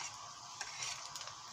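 Egg frying in butter with kashk in a pan, turned over with a utensil, giving a quiet sizzle with small scraping ticks and soft clicks, no voices heard.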